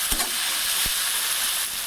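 Boiled soybean chunks tipped into a pan of tomato masala that is frying in oil, giving a steady close sizzle with a couple of soft thuds as the pieces drop in and are stirred, and no voices.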